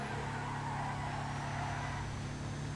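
Car engine in a roleplay driving video game, a steady droning hum with turbo whine, crawling at very low speed; continuous and fairly loud with no talk.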